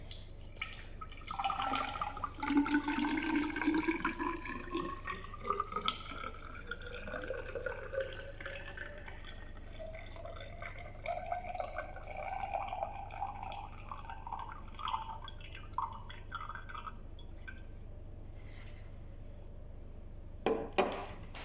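Water poured from a flask into a measuring vessel in a lab experiment on the molecular mass of carbon dioxide, a long gurgling pour with rising pitch as it fills, ending in a few drips, faint and alone.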